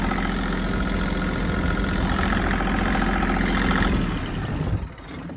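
A Mahindra eMax compact tractor engine idles steadily with a loud, continuous low rumble and rattling vibration from a violently shaking muffler, dropping off sharply near the end.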